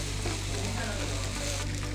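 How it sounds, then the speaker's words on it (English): BBQ pork fried rice sizzles steadily in a hot pan while being stir-fried with soy sauce, white vinegar and sesame oil, a close, continuous crackling hiss throughout. "Stir fry for 3 to 4 minutes."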